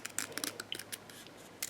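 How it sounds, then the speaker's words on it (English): Scissors snipping paper card stock along score lines for a handmade card, quick close crisp cuts in an uneven rhythm, faint and alone. "take your snips or scissors or whatever you have and just cut on those score lines"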